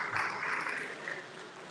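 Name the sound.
audience applause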